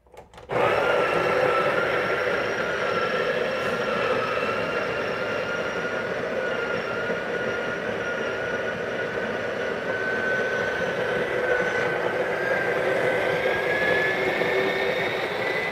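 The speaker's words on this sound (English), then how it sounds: "you hear the noise right now, which means there's no more coffee to grind" A steady, loud mechanical whir with a high whine running continuously for about fifteen seconds, a Breville Barista Pro coffee grinder spinning empty with no coffee left to grind.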